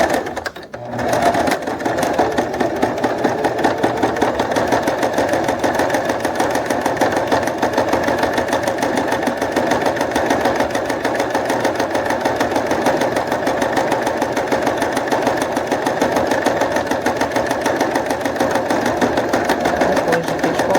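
Home sewing machine stitching a wallet, with backstitching at the start and end of the seam, running as a steady, loud, rapid mechanical chatter that goes on without a break for about twenty seconds after a brief start.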